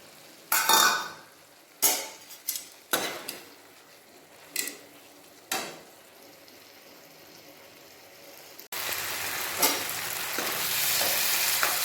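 Eggplant and potato going into a spiced masala in a pan: several sharp clanks and scrapes of a utensil, then a sudden loud steady sizzle as the food hits the hot oil, close, no voices.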